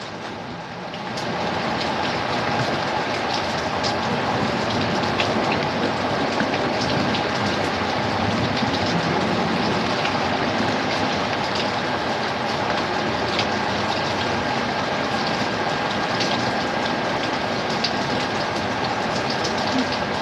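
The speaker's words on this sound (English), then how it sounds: "it's a bit blurry right now because of the rain" Heavy thunderstorm rain pours steadily through an open window, a dense, loud hiss of drops on surfaces that continues without a break.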